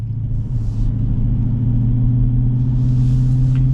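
A 2023 Dodge Challenger R/T muscle car cruises with a steady, deep engine rumble heard from inside, a constant low drone that holds even and unhurried with no sharp revving.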